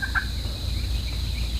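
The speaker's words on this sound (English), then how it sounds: "We heard a big gobbler at first light" A brief, distant wild Osceola turkey gobble rings out once near the start at first light in Central Florida, followed by quiet outdoor ambience with a steady high insect drone.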